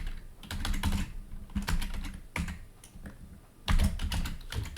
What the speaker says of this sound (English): I'm typing the username